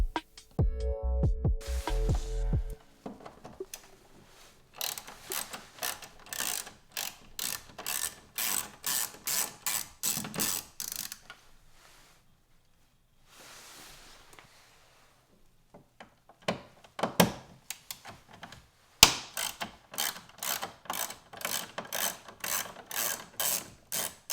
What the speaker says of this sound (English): You're going to need a T20 Torx in order to remove the two screws located right beneath the Audi filler panel